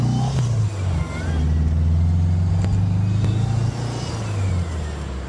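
A 1961 Volkswagen Beetle driving, its low steady engine drone rising and easing as it moves, loud and close with faint music and talk over it.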